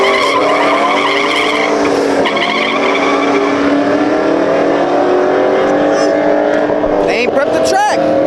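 Car tires spinning and squealing on an unprepped drag strip at night, a loud sustained screech with engine roar running the whole time, wavering pitch and brief chirps near the end.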